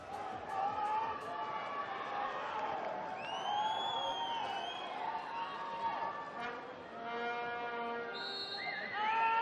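A capacity crowd of 5,500 spectators packs an indoor arena for the women's Indoor Hockey World Cup final between Germany and the Netherlands, a dense, steady roar of crowd noise with whistle-like tones and horns rising over it throughout.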